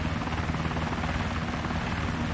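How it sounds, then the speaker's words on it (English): A VTOL aircraft in the Arma 2 war game, shifting from helicopter to plane mode, flies with a steady, loud, dense rotor-and-engine drone that holds without a break for the whole stretch. "Oh, it goes from helicopter to plane."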